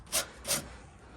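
Body filler scraped off a rusted car body panel on a G-body car, two quick, close rasping strokes with a short pause between them, and no talking.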